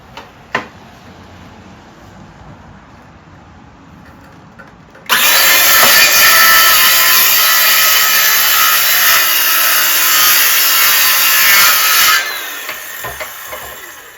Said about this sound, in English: I'm going to ride this on the edge here with the table saw, with the circular saw